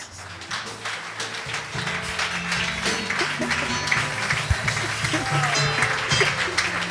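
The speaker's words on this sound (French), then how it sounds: "you put your hands together for that." A church congregation claps together in a steady, sustained round of applause, with voices and low music mixed in underneath.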